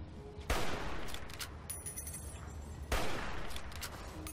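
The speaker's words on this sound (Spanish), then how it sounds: "Tendré que darle con el rifle de caza" A hunting rifle fires twice in Fallout New Vegas, two loud sharp cracks about two and a half seconds apart, each leaving a rolling echo that trails off between them.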